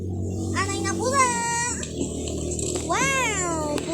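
A cat meows in the Murder Mystery 2 video game, two or three drawn-out, rising and falling meows over a steady game background hum, with a voice briefly in between.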